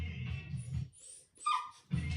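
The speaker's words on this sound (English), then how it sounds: "Do you see how much barking?" A dog barks and whimpers at a door in short bursts, with a few loud close yips separated by brief pauses.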